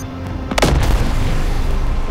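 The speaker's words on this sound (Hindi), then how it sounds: "वहाँ पे जूम करके अपना बम फाड़ा" A bomb blast in the Hitman: Sniper video game, a sudden loud boom with a broadband burst that decays into a low rumble and lingering reverberant tail, no speech.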